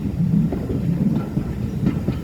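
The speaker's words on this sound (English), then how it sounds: "35005 Navy class, mentioned as we arrive into the Fort March train station." Navy class 35005 steam train pulling into a station on a heritage line, a steady close rumble of wheels and coaches rolling over the rails, loud and continuous without voices.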